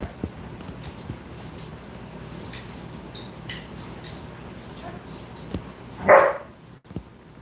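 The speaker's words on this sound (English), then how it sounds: "Crazy, crazy dogs." Several dogs bark, mostly one sharp, loud burst late in the passage over a low, steady background of faint rustling and thumps.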